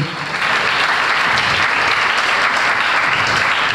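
A church congregation breaks into loud, sustained applause, dense and even clapping filling the space from start to finish.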